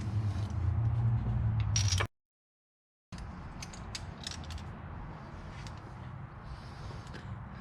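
A ratchet drives a 5/8 spark plug socket to back out a spark plug on an SVO engine, giving close mechanical clicking and creaking with a brief pause partway through.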